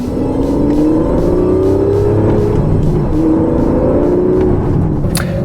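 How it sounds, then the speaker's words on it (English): The twin-turbo V12 of an Aston Martin Valour with a six-speed manual gearbox roars loudly up close, its tone climbing and dipping through steady pulls with a brief sharp squeal near the end. "3 pedals under my feet, manual gearbox under my hands, and a twin turbocharged V12 up front."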